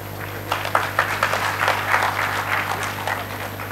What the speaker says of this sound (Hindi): एक बार ज़ोरदार तालियों के साथ हमारे माननीय मुख्य अतिथि महोदय का अभिनंदन